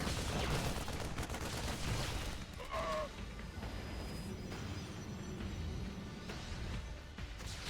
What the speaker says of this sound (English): Stalker's already getting tons of shots off on the medevac.